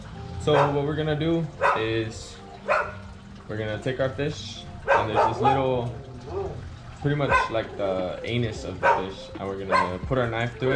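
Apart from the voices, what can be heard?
dogs barking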